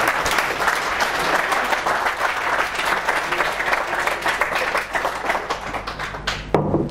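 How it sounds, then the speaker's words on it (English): A conference audience at a C++ talk breaks into sustained applause. Dense clapping from many hands carries steadily through the room for several seconds before it thins out at the end. "Some applause?"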